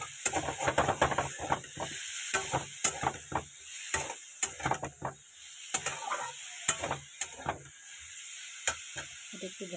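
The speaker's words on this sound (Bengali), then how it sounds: "এটা ঢেকে ঢেকে ভালো করে ভাজা করে নেব।" Pumpkin pieces frying with turmeric and a little salt in a covered pan, giving a soft continuous sizzle broken by frequent clattering stirs and scrapes of a spoon against the pan.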